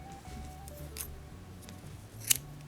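A single close snip of scissors cutting green crochet yarn, one short crisp click amid quiet room hush.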